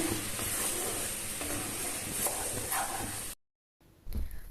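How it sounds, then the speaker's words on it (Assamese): Boiling jaggery stirred in a wok for muri ladoo gives a steady, close bubbling hiss with scraping strokes throughout, then a brief silence and a short burst of stirring noise. "গুড়খিনি পগাওতে হগনা এনেদৰে লৰাই থাকিব লাগে নহলে লাগি ধৰিব পাৰে কেৰাহীখনত"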